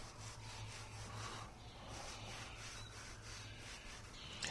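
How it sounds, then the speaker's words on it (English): A clean rag rubs back and forth across vinyl flooring to wipe off excess adhesive, a faint, continuous scrubbing swish close up with soft rhythmic strokes. "Now wipe off any excess adhesive with a clean rag."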